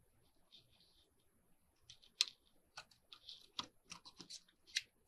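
Scissors snip off excess paper in a quiet indoor craft setting, a series of faint, irregular clicks and short cuts, with several sharper snips spread across the second half.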